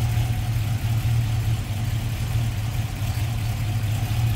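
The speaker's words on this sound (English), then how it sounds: "I just love the sound of this engine. A little bit of that thump, that mild ground cam." A 1966 Ford Mustang Shelby GT350-H with Shelby-spec headers and a mild cam idles close by, a steady low thumping rumble with a slight lope, loud and even throughout.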